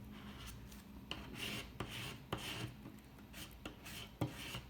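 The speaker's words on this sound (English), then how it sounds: "we're gonna apply some pressure and rub it down with the hopes that the decal will stick to the transfer tape" A white card rubs firmly over a vinyl decal on transfer tape while making an acrylic keychain, giving quiet, close, repeated scraping strokes at an irregular rhythm.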